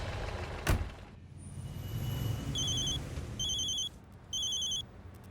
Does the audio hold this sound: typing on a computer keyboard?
no